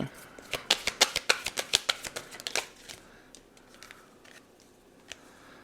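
Oracle cards are shuffled by hand to draw a wisdom card, a quick run of crisp, close riffling snaps for about two and a half seconds, then a few sparse soft taps and flicks.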